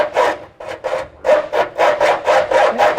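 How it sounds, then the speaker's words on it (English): A handsaw cuts through a steel frame rail brace on a Mustang or Falcon chassis, giving about ten loud, close, rhythmic rasping back-and-forth strokes with a brief pause near the start and no talking. "you can have hours of fun doing this with a handsaw"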